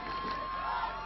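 A crowd cheers at a quidditch World Cup quarter-final match, a steady roar of many voices held for about a second, with a faint voice over it.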